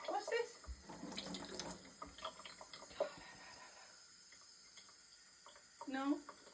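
Water runs from a tap in a steady, soft stream, broken by a few brief louder splashes and faint vocal sounds nearby.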